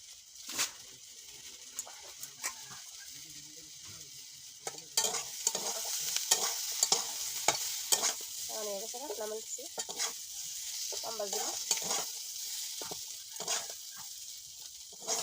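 Garlic paste, onion paste and spices frying in a pan, a soft sizzle with repeated spatula scrapes that grows busier partway through, with a few brief chirpy tones in the background.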